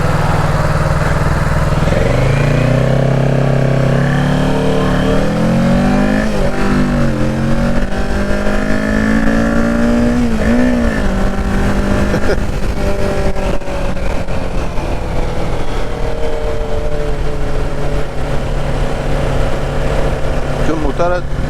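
A Kawasaki Ninja 650 motorcycle engine runs and revs throughout, rising and falling in pitch as it accelerates, close and loud, with someone talking over it.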